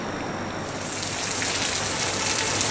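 Rain pours down steadily on dry ground on a hot day, a dense even hiss that swells slightly louder toward the end, with no voices.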